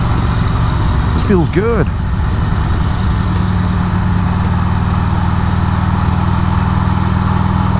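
A motorcycle engine runs loud and steady on a cold 20-degree ride, with constant road and wind roar throughout and a rider briefly talking over it.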